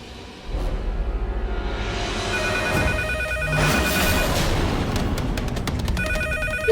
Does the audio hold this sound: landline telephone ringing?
yes